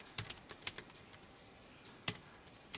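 Computer keyboard keys tapped in scattered, uneven bursts during data entry for an ITQ Excel exam exercise, crisp near clicks with short pauses between them and no voices.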